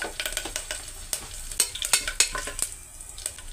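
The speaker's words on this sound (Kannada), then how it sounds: "ಪಲಾವ್ ಎಲೆ, ಚಕ್ಕೆ, ಲವಂಗ, ಸೋಂಪು ಎಲ್ಲ ಹಾಕಿ ಸ್ವಲ್ಪ ಫ್ರೈ ಮಾಡ್ಕೊಳ್ಳಿ." Bay leaf, cinnamon, clove, fennel and curry leaves fry in hot oil for a tomato and field bean rice dish, with a crackling sizzle broken by repeated scraping stirs and pops close by.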